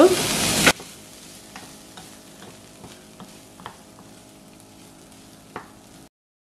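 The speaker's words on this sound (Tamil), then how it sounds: "இதை நல்லா மிக்ஸ் பண்ணி விடுங்க." A spoon stirs and mixes Maldive fish sambal in a pan. A short loud burst opens, then soft, sparse scrapes and taps follow close by before it falls silent.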